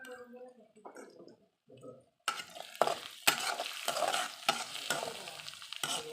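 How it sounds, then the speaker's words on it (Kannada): After a short quiet start, onions roast in oil with a sudden, steady sizzle as a spoon stirs them, scraping and tapping the pan several times, near and fairly loud. "ಹಾಗಾಗಿ ಈರುಳ್ಳಿ ಚೆನ್ನಾಗಿ ರೋಸ್ಟ್ ಮಾಡಬೇಕು."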